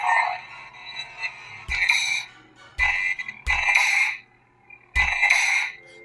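Pixel-blade lightsaber running a Ben Solo sound font, giving four loud, separate bursts with sharp onsets over a steady low hum, each burst lasting under a second and spaced unevenly.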